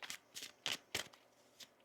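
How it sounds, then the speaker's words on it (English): A deck of tarot cards being shuffled in several quick, crisp bursts, close and fairly quiet, with short pauses between riffles. "One more shuffle here."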